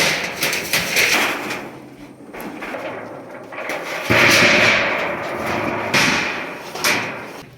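A hammer strikes repeatedly during a roof repair, the knocks coming as loud irregular bangs amid clattering work noise nearby.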